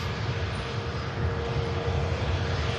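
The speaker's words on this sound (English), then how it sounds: "we do have an EasyJet Neo on finals from Iceland" An easyJet Airbus A320neo airliner on final approach into Manchester, arriving from Iceland, gives a steady broadband engine roar that holds even and continuous throughout, moderately loud with no voices over it.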